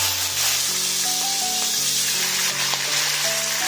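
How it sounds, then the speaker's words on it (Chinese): Yellow wine poured around the edge of a wok onto frying fish, a loud, dense, continuous sizzle and hiss filling the whole moment, close up, with faint tonal hums underneath. "我们沿锅边淋上点黄酒"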